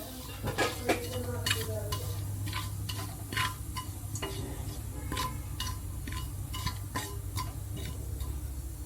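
Mustard seeds crackle and pop in hot oil in a pan, giving sparse, irregular sharp snaps over a quiet sizzling background.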